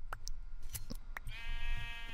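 Sheep bleating in a Minecraft minigame: a wavering, nasal bleat rises near the end over a busy game background with several short clicks and chimes, fairly close and clear.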